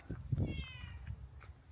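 A cat gives a short meow, close by and fairly quiet, followed by a brief faint second call.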